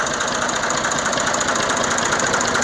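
An IMT tractor engine idles steadily nearby, a continuous mid-pitched rumble with a faint knocking pulse and no pauses or voices.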